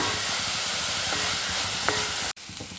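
Onion and green chili sautéing in a pan for a kovakka (ivy gourd) masala curry, a steady close sizzle with a few utensil scrapes, cutting off abruptly near the end before a quieter sizzle resumes.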